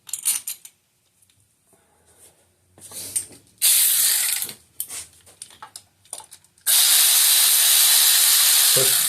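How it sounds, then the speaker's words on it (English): A ratchet tightens T30 bolts on a Chevy Cruze 1.4L engine. Quick clicking runs come in short bursts between quiet gaps and louder hissy stretches, with occasional light taps. "then you reinstall your 2 T30 bolts"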